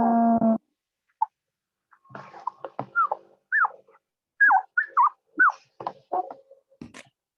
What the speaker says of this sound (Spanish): sí, es mi perrito